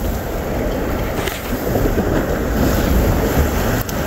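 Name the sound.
strong wind over the sea on a fishing boat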